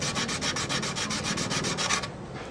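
Sandpaper rubbed by hand over a varnished violin body, a rhythmic back-and-forth rasp of about a dozen quick strokes, close and steady, then a softer pause at the end.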